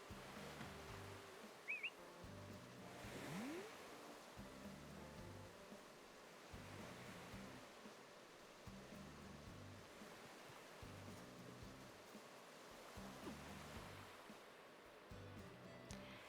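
Ocean waves wash onto a beach in the Animal Crossing video game, a soft steady surf with gentle swells under faint layered background music, heard alone without voices.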